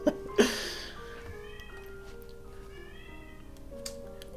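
A pet cat meows near dinner time, a few faint drawn-out calls after two sharp knocks at the start, heard indoors against a quiet background.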